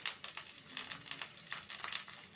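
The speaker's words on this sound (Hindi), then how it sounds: "गोभी को डीप फ्राई कर लेंगे।" Cauliflower deep frying in hot oil for a mixed vegetable dish gives a steady, close crackling sizzle with bright bubbling bursts throughout, no voices.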